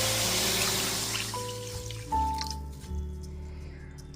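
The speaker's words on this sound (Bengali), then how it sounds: "2 থেকে 3 বার জল বদলে ডালটাকে খুব পরিষ্কার করে ধুয়ে নেব।" Roasted mung dal is washed in water, with close, wet splashing and sloshing as the lentils are stirred and rinsed, plus a few drips.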